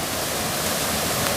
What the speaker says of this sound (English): that's why we're seeing the water just spilling right over the edge.